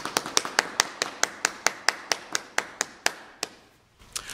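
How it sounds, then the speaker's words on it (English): Clapping in a church congregation during a morning worship service after a birthday song. Crisp, evenly spaced claps come in a steady rhythm, pause briefly near the end, then resume, close and fairly loud. "And a round of applause"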